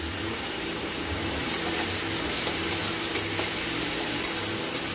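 Onion and chilli paste sizzles steadily in a hot pan, a continuous close hiss of frying with faint soft scrapes as it is stirred.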